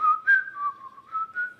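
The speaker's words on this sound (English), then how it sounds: "You're a good whistler." A person whistles a continuous, wavering melody from Snow White, clear and close with gently rising and falling pitch and no talk over it.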